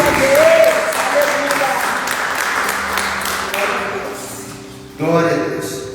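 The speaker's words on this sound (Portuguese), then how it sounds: "Aplauda o Senhor no teu lugar, em nome de Jesus." A church congregation applauding during a worship service, brisk clapping that slowly fades, then a short fresh burst near the end, with faint voices and a sustained keyboard tone beneath.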